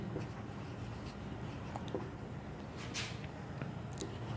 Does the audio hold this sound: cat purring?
no